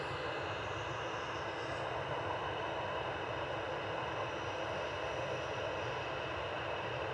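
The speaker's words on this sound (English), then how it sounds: "Ryanair 3213 from Girona. This is EIHAX and Max 8200. Just coming over the threshold." Ryanair Boeing 737 Max 8200 from Girona crossing the runway threshold on landing at Manchester Airport, a faint, steady jet roar from afar with no voices.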